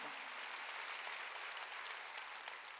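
A church congregation applauding during a Sunday worship service, steady continuous clapping heard from a distance at a low, even level throughout.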